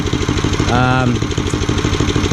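A Simplicity 870 snow thrower engine runs steadily after a carburetor rebuild, new fuel lines and spark plug, a loud, close, even chugging throughout, with someone talking over it.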